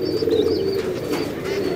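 Desi pigeons in a loft coo in a low, continuous murmur, with faint higher chirps drifting over it, close by.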